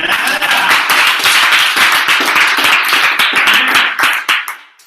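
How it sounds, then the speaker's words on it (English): A crowd at a mastermind seminar claps in loud, dense applause that holds steady for several seconds and then tapers off into a few scattered claps. "let's give a round of applause."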